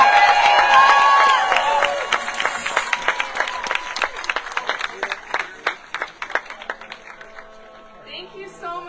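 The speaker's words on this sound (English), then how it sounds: "Can I get another round of applause?" A rally crowd at Madaket Square applauds and cheers after a speech, loud dense clapping and whoops at first, thinning to scattered claps that fade out over several seconds.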